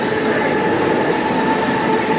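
A crowded Mumbai local train pulling out of Thane station, a loud steady rumble of wheels and carriages with faint squealing tones, close and continuous, no speech.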